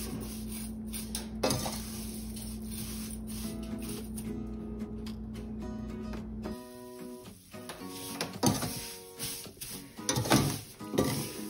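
Sewaiyan vermicelli dry-roasting in a pan, with close scraping and knocking of a utensil stirring the strands and an irregular clatter of pan and spoon.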